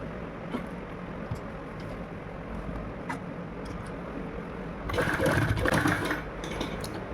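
A sewing machine stitches a kurti sleeve, a soft low mechanical hum that swells into a louder rapid whirring burst of stitching near the end.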